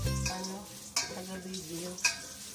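Onion sautéing in a pan for chicken sotanghon soup, a steady close sizzle with stirring scrapes and two sharper clinks of a utensil against the pan.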